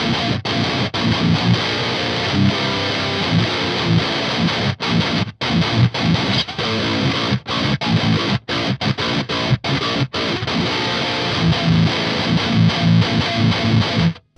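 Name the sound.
Mode Four M350 amp precision drive guitar distortion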